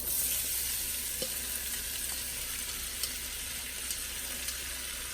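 Onions frying in a hot pan, with a steady, fairly quiet sizzle throughout and a few faint clicks of the pan along the way.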